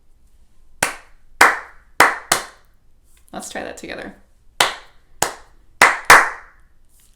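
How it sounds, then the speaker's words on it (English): Sharp, close hand claps beat out a children's rhythm, four evenly spaced claps, then a short spoken line, then four more claps in the same pattern. "Let's make a beat with our clap."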